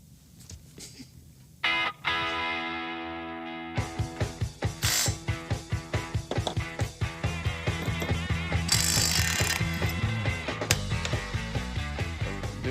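A ratchet tightens bolts on a car during a Hemi Gremlin build, giving off a fast train of sharp mechanical clicks at close range, with a tonal whirring before it and buzzy machinery underneath.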